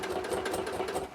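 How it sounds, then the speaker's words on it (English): A sewing machine runs steadily with a fast, even mechanical whir while it top-stitches close to the edge of bias tape on a quilted vest. "I'm top stitching really close to the edge of my bias tape"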